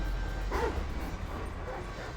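In GTA V, a dog gives a short yip and whimpering bark close by, faint over a low ambient game rumble, with brief talk nearby.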